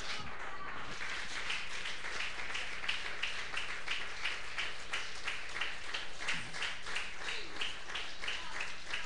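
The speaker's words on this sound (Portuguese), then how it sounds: "E a igreja diga amém e dê uma salva de palmas para Jesus." A church congregation applauding during a service, steady continuous clapping at even loudness throughout, with a low hum underneath and a brief voice near the start.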